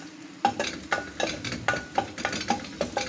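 Garlic sautéing in a cooking pan for chicken soup, a soft sizzle with regular scraping stirs of a utensil against the pan, close and steady, no talk.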